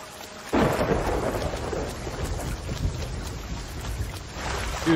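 Video game thunderstorm: a sharp thunderclap bursts in and rolls on as a deep, steady rumble over heavy rain, swelling again near the end, with no voices.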